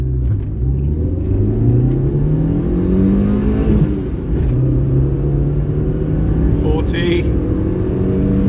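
A Suzuki Alto pulls hard from a standstill toward 60 on a rural B road, its small engine droning and climbing in pitch through several gear changes, loud and steady from inside the cabin, with a voice speaking briefly over it.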